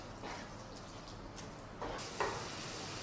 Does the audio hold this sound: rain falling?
no